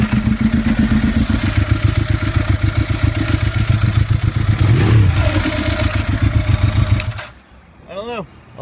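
A Ducati 1198 motorcycle in first gear, with a steady close engine drone carrying a pulsing whirr throughout, which cuts off near the end before a voice speaks briefly.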